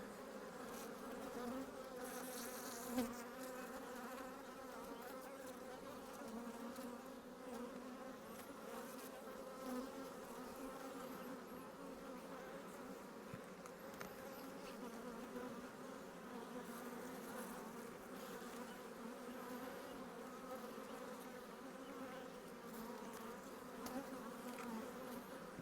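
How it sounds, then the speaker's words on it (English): Honey bees buzzing continuously around an open beehive during a hive inspection, a dense, steady drone close by with no talking. "Kind of freaky with all the bees rolling around here"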